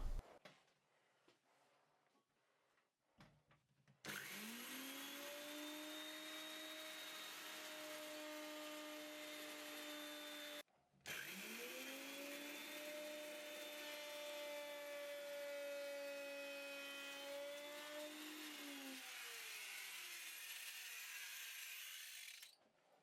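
A router fitted with a bottom-bearing bit trims the edge of a black limba guitar body, a loud high whine with cutting noise in two long passes separated by a brief pause, with a few faint knocks before it starts.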